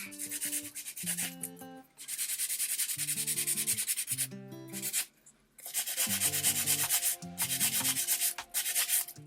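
A high-pitched electric nail drill whirs in repeated bursts while filing gel nails with a fine taper bit, its buzzing pitch shifting as it grinds, with brief pauses between passes.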